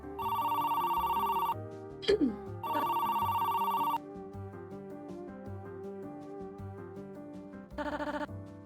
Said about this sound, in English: Oh, it is the phone ring.